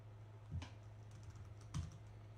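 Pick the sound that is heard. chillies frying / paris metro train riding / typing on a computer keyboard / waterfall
typing on a computer keyboard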